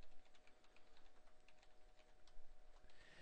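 Keys tapped on a computer keyboard while an email address is entered for a new account, a quiet, steady run of light clicks close by, with no voices.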